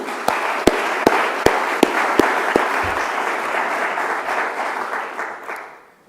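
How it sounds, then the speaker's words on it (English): An audience at an awards ceremony applauds in a loud, dense crowd clatter, with a few sharper individual claps standing out early before the sound tapers off and fades. "I want to give a hand of applause for everyone"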